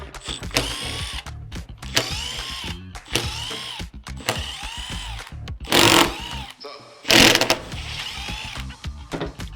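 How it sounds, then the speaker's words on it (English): Impact driver backing out 4mm hex bolts from the motor cover of a Bafang mid-drive e-bike motor, giving repeated short bursts of rapid mechanical rattling with louder hammering spells near the end, close and alone. "We like to use an impact. It's a 4mm hex to take these off, so we'll go ahead and take those off."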